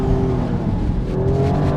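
Engine of a 2025 Alfa Romeo Stelvio Quadrifoglio pulling hard under throttle in race mode, a loud, steady, rising drone with a slight pitch climb, heard from inside the cabin with no talking.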